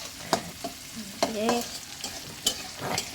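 Onions and chilies fry in a pan with a soft sizzle and several sharp clinks and scrapes of a spatula against the pan, close and uneven in rhythm.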